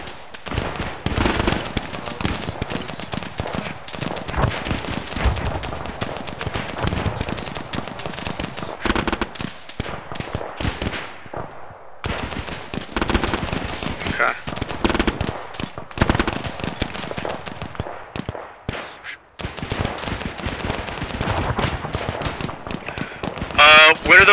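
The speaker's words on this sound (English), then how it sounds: "Where did those shots come from?" Dense, continuous rifle shots and machine-gun bursts crackle through a World War II Omaha Beach D-Day battle in the video game ArmA 3, with a short lull midway, and players talk over the constant firing.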